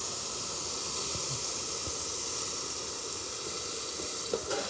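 Carrot halwa cooking under a lid in a pan, a village-style sweet, gives a steady, even sizzling hiss that stays continuous throughout, with a faint clink near the end.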